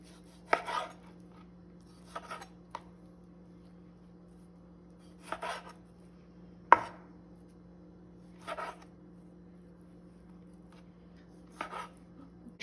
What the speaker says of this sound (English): You cut your diced pieces.